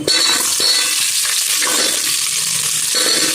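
Biryani ingredients fry and sizzle in a pot, a loud, steady crackling hiss with occasional stirring scrapes and clinks, close up and without talk.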